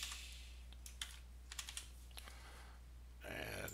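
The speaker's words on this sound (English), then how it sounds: "Then go ahead and type in your password" Quick keystrokes on a computer keyboard as a password is typed, a light irregular patter of clicks for about three seconds, close and fairly quiet, ending in a burst of broadband noise.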